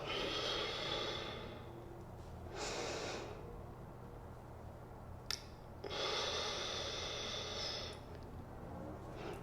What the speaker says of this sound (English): So inhale and exhale.